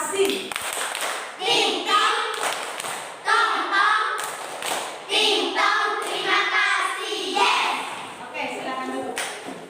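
Children in a classroom performance lesson do a rhythmic thank-you clapping chant, sung voices over sharp, patterned group claps that come in regular bursts and repeat throughout.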